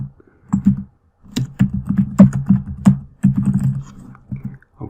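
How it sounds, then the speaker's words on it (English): Keys clack on a computer keyboard as figures are entered into a spreadsheet, a loud, close run of irregular clicks in quick bursts with short pauses and no voices. "when I am typing in this cell"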